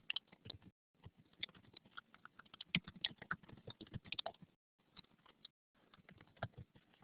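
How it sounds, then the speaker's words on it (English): A couple of people typing on computer keyboards in a classroom, a faint, quiet patter of irregular key clicks in bursts separated by short pauses, with no talking. "A couple of people are typing."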